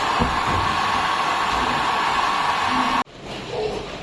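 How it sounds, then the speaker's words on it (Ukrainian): A loud, steady blowing roar of a construction heat gun runs continuously, then cuts off abruptly, leaving quieter room noise. "Сушити буду звичайним будівельним феном."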